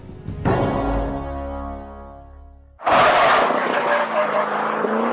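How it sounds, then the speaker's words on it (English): A Chevrolet Camaro ZL1 at speed on the Laguna Seca race track: a loud, close engine note that shifts and falls, then a sudden harsh roaring surge as the car powers past the start-finish line. "Crossing the start-finish line in the Camaro ZL1."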